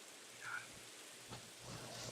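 Steady rainfall from the Minecraft video game hisses softly and evenly, a faint continuous patter with no music or voices over it.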